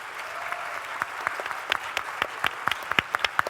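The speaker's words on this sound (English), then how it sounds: "can we have a round of applause for the MC" Applause at a tech summit for the event's MC, a thinner, scattered clapping with distinct individual claps popping out near the microphone, growing more pronounced toward the end.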